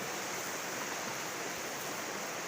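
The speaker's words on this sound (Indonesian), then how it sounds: "Ini sungai, ini namanya Sungai Ciberem, yang mana sungai ini kebetulan ini lagi keruh ya." Murky water of the Ciberem River rushes past in a steady, dense, close roar, with no voices over it.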